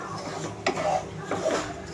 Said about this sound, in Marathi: आता आपण रवा टाकून भाजून घेणार आहोत